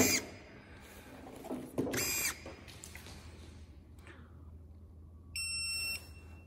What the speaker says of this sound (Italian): Aspettiamo il secondo bip, la spegniamo.